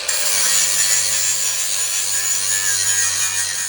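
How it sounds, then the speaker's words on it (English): An angle grinder fitted with a flap disc grinds the metal of an ATV cart in one loud, continuous, raspy stretch, steady and close with a low motor hum beneath, no voices. "time to get the grinder out, which is over here, and start grinding away. Little flapper disc action."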